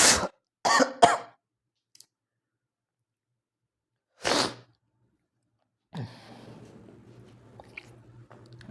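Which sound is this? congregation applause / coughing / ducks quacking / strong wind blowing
coughing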